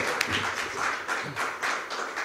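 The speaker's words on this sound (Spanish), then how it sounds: "Les agradecemos entonces con un aplauso" Applause at a legal sciences congress in a hall, with a dense, close wash of many hands clapping that stays steady and full for the whole stretch.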